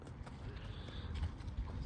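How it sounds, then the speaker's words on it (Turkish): Restless horses at a farm during shoeing, hooves stamping and shuffling on the ground in irregular soft thuds, close by over low background rumble. "Çevrede at olduğu için dişi atlar, bizim atlar biraz huysuzlanıyor."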